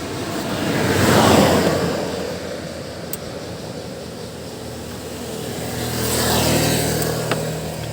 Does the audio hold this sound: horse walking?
no